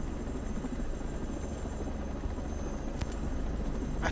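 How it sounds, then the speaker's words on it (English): A helicopter in the intro of the video game Ghost Recon Breakpoint gives a steady, loud rotor and engine drone that stays constant throughout, with a brief sharp click near the end. "Very interesting how most of these games start off in a helicopter"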